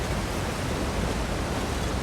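A waterfall in the fantasy video game Prisoner of Fate rushes as a dense, steady, broadband roar, loud and continuous with no voices.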